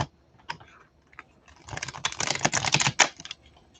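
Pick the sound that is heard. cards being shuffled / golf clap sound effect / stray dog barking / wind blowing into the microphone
cards being shuffled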